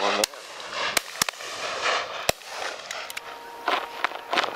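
Shotgun blasts at flying pheasants during a partridge and pheasant shoot, several sharp loud reports spaced irregularly across the clip with faint outdoor background and some distant calls between shots.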